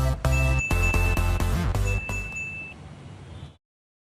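A bright notification jingle for a subscribe bell, with a few quick chiming tones and a sustained ping ringing out over about three seconds before cutting to silence.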